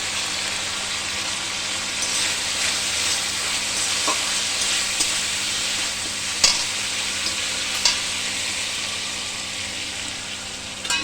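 Turmeric, cumin and coriander powder frying with a little water in a pot for khichdi, a continuous close sizzle with occasional stirring clicks and scrapes, no talking.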